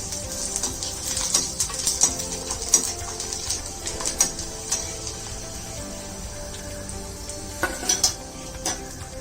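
Sliced garnish sautéing in ghee for a chicken ghee roast: a steady close sizzle with intermittent spoon scrapes and clinks against the pan, and no talking.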